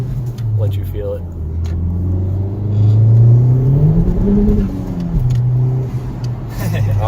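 A 2019 Honda Civic Type R pulls hard on a neighborhood street, its engine note climbing steadily with a loud, close rumble as the front wheels spin. Voices talk over the sound throughout.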